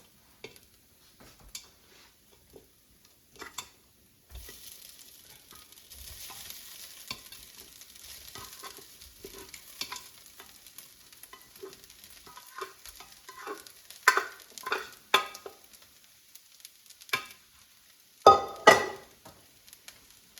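Carrots and rice stirred and fried in a pan, with a utensil scraping and clattering against the pan in irregular strokes over a soft steady sizzle that grows busier toward the end, heard close up without talk.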